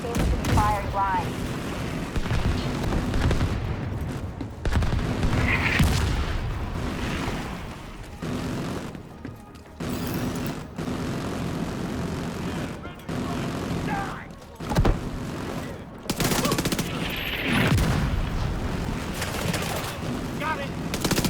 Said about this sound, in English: The autocannon seems to be firing blind.